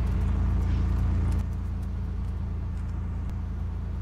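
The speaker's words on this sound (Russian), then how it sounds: "машина очень шумит, а она в том же канале, что и этот." Steady low rumble of a car engine and road noise, loud at first and then settling slightly quieter, with no talking.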